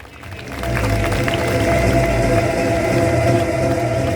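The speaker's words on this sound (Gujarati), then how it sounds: "રમેશભાઈ માટે એકવાર જોરદાર તાળીઓ થઈ જાય" Audience applause at a college prize-giving ceremony in 2025: a dense, sustained wash of clapping that swells within the first second and stays loud and even.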